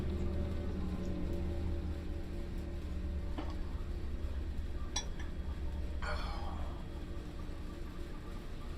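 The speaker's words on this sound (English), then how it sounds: "It is raining." Steady rain falls in the video game Strangeland, a constant soft hiss with a few faint clinks and patters scattered over it.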